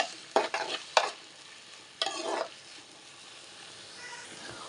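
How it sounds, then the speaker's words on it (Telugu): Thinly sliced onions from one large onion fry in a pan, with a few loud stirring scrapes and bursts of sizzle between quieter stretches of soft frying. "ఉల్లిపాయలు కొంచెం ఇలా వేగిన తర్వాత"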